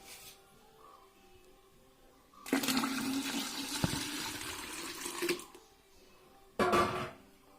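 Water poured into a vessel of churning buttermilk while making butter at home, two bursts of splashing pour, a longer one of about three seconds and a short one near the end, close and fairly loud with no talk.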